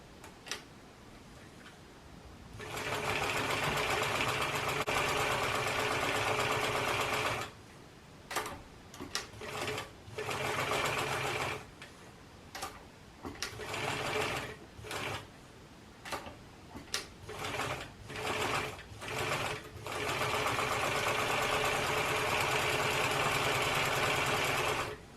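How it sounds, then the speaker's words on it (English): A sewing machine stitches small baby hat antennae with a narrow seam allowance, running in long steady bursts broken by a stretch of short stop-start stitching, close and clear with no talking. "So I'll start sewing up the little antennae, and I'm only going to do a very small seam allowance around here."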